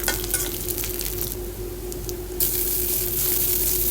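Garlic cloves and green chilies fry in a pan for a drumstick bharta, giving a steady, close hiss of sizzling oil with a faint background hum, growing slightly louder near the end.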